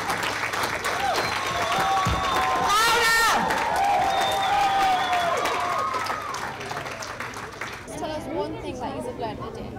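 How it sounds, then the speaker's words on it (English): A large crowd at a Show Racism the Red Card event at St James' Park applauds and cheers loudly for a panel, with whoops and shouts over steady clapping that fades toward the end. "can we have a massive round of applause for our amazing panel?"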